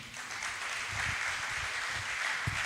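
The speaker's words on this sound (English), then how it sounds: "A round of applause for DG." A conference audience gives a round of applause, a steady wash of clapping heard at moderate distance with no talk over it.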